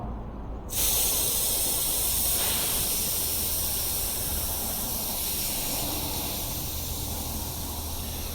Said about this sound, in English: Really don't like letting air out of this tire